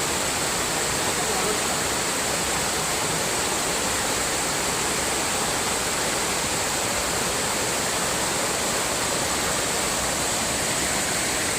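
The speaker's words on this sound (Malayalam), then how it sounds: "ഇതാണ് നമ്മൾ കണ്ടുള്ള വെള്ളച്ചാട്ടം" Malora waterfall in Kerala roars as a steady, loud, dense rush of falling water that fills the whole stretch without a break.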